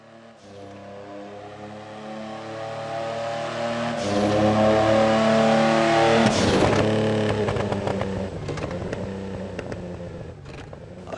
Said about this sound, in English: that crackle that it has when you lift off the throttle